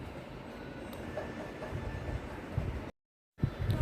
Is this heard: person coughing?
no